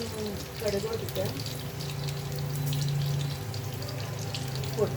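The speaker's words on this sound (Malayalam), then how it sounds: "കടുക് പൊടിക്കാം" Mustard seeds crackle and splutter softly in hot coconut oil, a faint, sputtering hiss running under a woman's speech.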